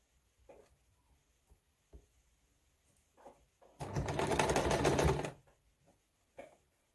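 A sewing machine stitches fabric in one loud, rapid burst of mechanical whirring lasting about a second and a half, set among faint scattered clicks and handling sounds in a quiet room.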